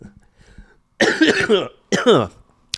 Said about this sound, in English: See, there's that cough.